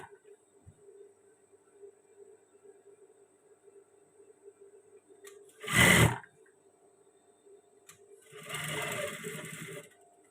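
An electric sewing machine stitches batik fabric in two short bursts, a brief loud whir and then a longer run, with quiet room hum between them.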